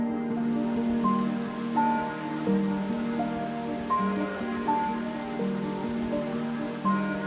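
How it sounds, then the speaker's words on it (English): Steady rain falls on surfaces in a town, a continuous dense patter with an even hiss and no voices over it. "through a steady rain which finally came"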